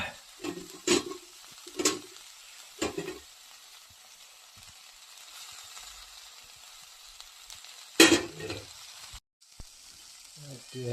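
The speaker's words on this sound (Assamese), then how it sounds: "তাৰপিছত অকণমান পিঁয়াজ দি দিম।" Chopped onion fries with mixed vegetables in a pan, giving a low continuous sizzle punctuated by several sharp clattering bursts of stirring, quiet stretches between them.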